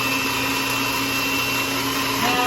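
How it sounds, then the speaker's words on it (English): An electric hand mixer whips two egg yolks with softened cream cheese for cloud bread, a loud, steady whirring drone that runs without a break and rises slightly at the end, with no talking. "I'm mixing this with a hand mixer."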